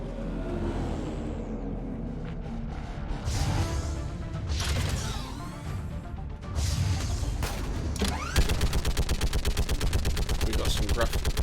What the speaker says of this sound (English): Gotta use the stupid turret though.